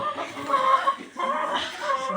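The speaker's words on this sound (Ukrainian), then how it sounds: "Курка." A chicken clucks close by in short, repeated bursts with a brief pause midway, fairly soft overall.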